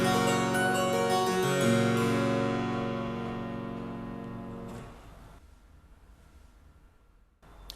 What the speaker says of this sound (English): 1 set of strings sounds like this.